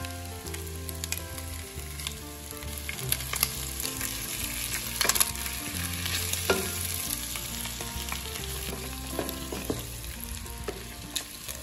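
Beef kare-kare sauce with peanut butter sautéing and being stirred in a pan, a steady close sizzle broken by scraping stir strokes and spoon knocks, with no talking.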